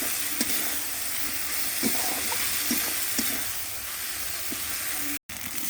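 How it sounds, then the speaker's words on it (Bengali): Chicken frying with ginger paste, chilli, turmeric and cumin paste as it is stirred for kosha, a steady loud sizzle with light periodic spatula taps against the pan, close by and without talk. "এবার সব উপকরণ ভালো করে নেড়ে চেড়ে কষিয়ে নেব।"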